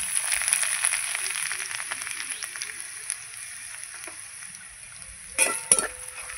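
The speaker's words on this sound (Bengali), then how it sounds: "এবার আমি সবগুলো একটু ভেজে নেব ভালো করে" Ginger and pumpkin frying in a pan for mung dal with fish head, a continuous close sizzle with faint stirring, ending in a brief louder clatter of utensil against pan.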